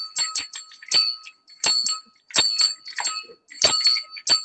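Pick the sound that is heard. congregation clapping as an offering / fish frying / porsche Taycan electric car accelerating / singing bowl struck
singing bowl struck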